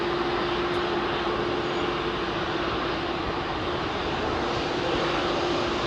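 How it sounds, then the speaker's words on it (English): A Malaysia Airlines Airbus A350 in special livery departs London Heathrow runway 27R, its jet engines a loud, steady roar held close and constant throughout. "Comes that beautiful Malaysian 350 with the aero livery on it,"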